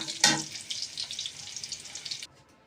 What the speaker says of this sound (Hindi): अब जो बाकी ऑयल है इसके अंदर हम प्याज डाल देंगे।